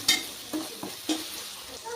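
A spoon stirs potato curry with tomato and spices in a frying pan, making a few soft scraping strokes over a low, steady sizzle.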